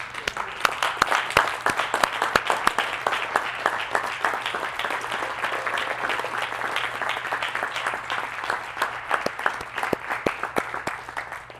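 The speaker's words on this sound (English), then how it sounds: "Let's get a stand and give Mr. Hood a hand clap." A livestream audience gives a long, steady round of applause, dense clapping that goes on without a break at a moderate level, with no talking.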